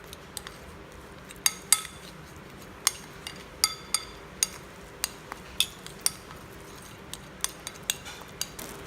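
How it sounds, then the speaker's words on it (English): Metal utensil clinks and scrapes against a pan while prawns are mixed with salt, a steady series of sharp, close taps with short quiet gaps between them. "Now mix it well"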